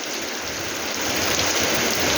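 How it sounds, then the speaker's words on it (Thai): Heavy out-of-season rain falls outside in early March, a dense, steady hiss of drops pouring down without a break and growing slightly louder. "ฝนตกแห้งบักแห้ง ตกตลอดเบิดมือเบิดเว้น"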